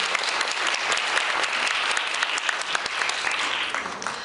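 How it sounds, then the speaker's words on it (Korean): Dense, sustained applause fills a hall at the 2019 Sookmyung debate competition final, honoring Professor Shin Hee-seon as award presenter and the prize-winning debate teams; many hands clap steadily for about four seconds with no talk. "시상해주신 신희선 교수님과 입상한 팀에게 다시 한번 큰 박수 부탁드립니다."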